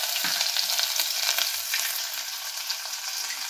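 Dry red chillies, asafoetida and garlic-chilli paste frying in hot tempering oil for a vegetable kadhi, a steady close sizzle with stirring scrapes throughout, no voices.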